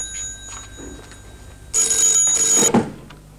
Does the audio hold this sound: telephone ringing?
yes